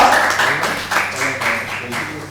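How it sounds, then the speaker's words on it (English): Audience applause at a national library science conference, a few loud claps standing out over a dense spattering of hands, close and fairly loud and lasting throughout. "A big round of applause for the sir"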